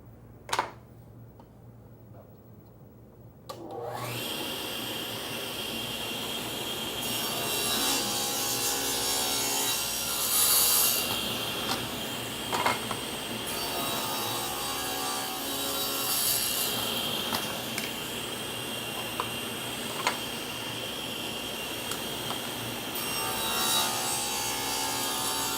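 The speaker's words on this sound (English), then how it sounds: "we're ready to mill the grooves, and all of our pieces, the rails and the stiles, both get" A table saw cuts grooves into wooden cabinet rails and stiles, a sustained loud whining roar that starts abruptly after a quiet lead-in and continues with small surges and wood-scraping texture as each piece feeds through.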